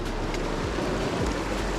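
A mountain stream in the Haramosh valley rushes in a dense, constant broadband roar, close and steady throughout with no voices.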